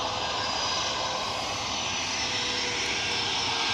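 Jet engines of a departing airliner at Newcastle airport, heard down the runway as a steady, moderately distant roar with a high whine running through it, no voices.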